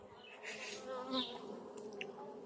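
A honeybee colony leaning toward swarming, its open hive humming with a steady dense buzz up close, with individual bees droning louder as they pass, quiet and continuous throughout.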